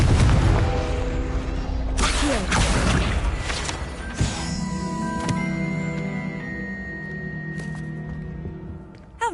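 Confringo blasting spell explodes in Hogwarts Legacy, a loud booming burst at the start followed by crackling impacts and ringing magical tones, with another sharp hit near the end.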